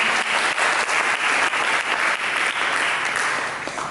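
A church congregation claps loudly and steadily after worship, a dense close wash of hands that holds strong throughout before easing slightly at the end.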